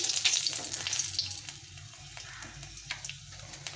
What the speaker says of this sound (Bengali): তেলটা গরম হয়ে গেছে আমি এটা একটা শুকনো লঙ্কা ফাটিয়ে দিলাম